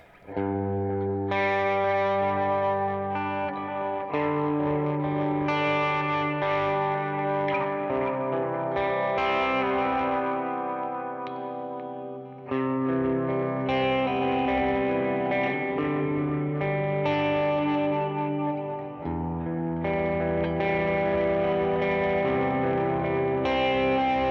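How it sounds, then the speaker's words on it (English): Electric guitar through a 1981 Inventions DRV pedal playing sustained chords drenched in reverb and rhythmic dotted-eighth delay, notes trailing and overlapping into an ambient wash, with no voices. "Let's put a little bit of reverb and delay on it. Some dotted eighth."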